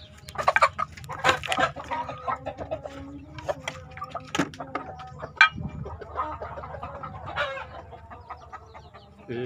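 Farmyard chickens, a plucker-breed rooster with two old hens, cluck and call in busy, overlapping bursts, with sharper squawks and a steady murmur of fowl beneath, close and fairly loud throughout.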